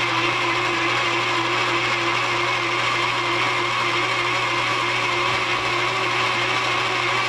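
A machine tool fitted with a new insert cuts metal in a steady, loud, continuous whine with a constant drone beneath, uninterrupted for the whole stretch and with no talk.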